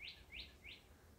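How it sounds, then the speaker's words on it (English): Three quick, high bird chirps evenly spaced, faint and distant over a low background hum. "listening to the birds in the background"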